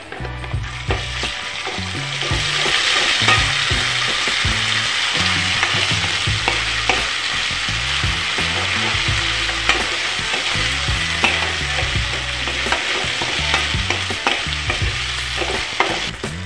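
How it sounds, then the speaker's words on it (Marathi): Onion and ginger garlic paste sauté in a pan with a steady, loud sizzle, while a spoon scrapes and stirs repeatedly in an irregular rhythm close by. "आणि इथे कांदा लालसर येईपर्यंत मी चांगल्या प्रकारे परतून घेणार आहे आणि आता यामध्ये मी आलं लसूण पेस्ट टाकून घेणार आहे"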